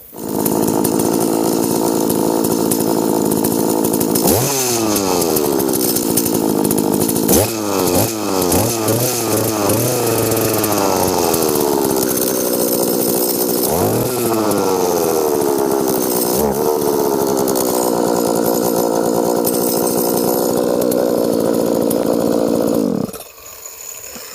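An Oleo-Mac 941C chainsaw runs steadily and loud during an oil feed check, its engine revved up in several sharp bursts before it cuts off at the end.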